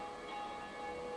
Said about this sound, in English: you're going to want to go to the top of this bell tower, and you're going to want to ring this